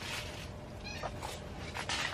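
A house cat meows indoors near trays of potted pepper and tomato seedlings, giving a few faint, short cries over steady background hiss.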